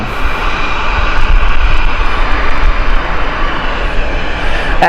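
A fixed-wing airplane's engines roar steadily and loudly at Gatwick Airport, a broad continuous drone with no voices over it.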